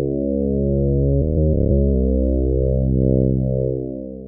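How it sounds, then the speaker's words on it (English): Thick synthesized bass built in VCV Rack with reverb, a sustained loud tone with rich stacked harmonics and a slowly sweeping filter, briefly stuttering mid-phrase before fading out at the end. "And that's the finished bass."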